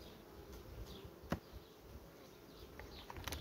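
Honey bees buzz around an open hive in a steady, faint drone, with scattered nearby passes and a couple of sharp ticks.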